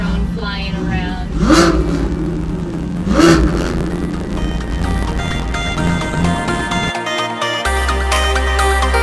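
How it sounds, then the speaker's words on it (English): Car exhausts rev in a parking lot at a poker run gathering, loud throaty bursts rising and falling nearby, with people talking and music entering near the end. "there is a symphony of exhausts in the parking lot here"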